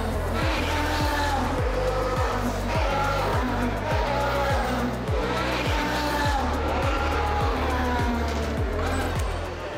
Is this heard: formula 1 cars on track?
yes